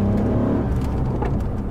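A V8 engine of a US police car rumbles steadily and loudly up close, a deep continuous drone with a slight swell partway through, no voices over it.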